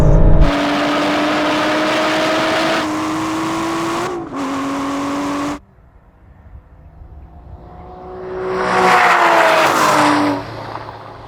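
Aston Martin V12 cars launching off the line in a drag race, engines howling at high revs through a gearshift before cutting off, then a second car roaring past loudly and fading away.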